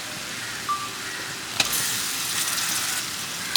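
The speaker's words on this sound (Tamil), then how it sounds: "இப்போ நம்ம வந்து தக்காளி ஆட் பண்ணணும்." Tomatoes frying in oil with toasted masala powder in a pan, a steady broadband sizzle with a brief clatter partway through as they go in, continuing loud and even to the end.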